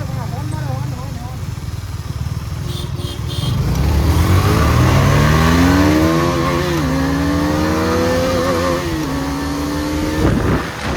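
Motorbikes, including a Yamaha R15 V3, accelerate hard in a street drag race to a traffic signal, engines rising in pitch through several gear shifts, loud and close, with wind rush and a voice talking.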